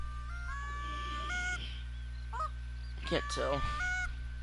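Geese honking overhead during a goose hunt, several calls in stepped, level tones arriving in bursts, moderately faint and distant against a steady low hum, with a short voice breaking in near the end.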